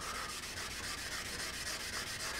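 Sandpaper rubs back and forth over an aluminum trackbike muffler, a close, continuous gritty scrubbing with an even rhythmic pulse of strokes and no voices.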